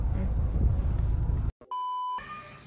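A single steady electronic censor beep tone, loud and clean, cutting in abruptly after a stretch of busy noisy sound and a brief silence, lasting about half a second.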